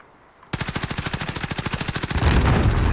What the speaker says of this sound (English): Someone shooting me from up.